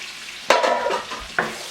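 Diced onions and bacon fat dropped into hot butter in a pan, bursting into a loud close sizzle with two sharp onsets, the crackle fading slightly between them.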